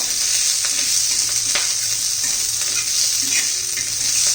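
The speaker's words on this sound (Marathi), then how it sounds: "असा ओलसर नाही ठेवायचा म्हणजे चांगला की कडक होईपर्यंत आपल्याला परतून घ्यायचा तो कढीपत्ता" Curry leaves sautéing in a pan until crisp for curry leaf chutney give a steady, close sizzle with faint stirring scrapes, continuous and alone with no talk.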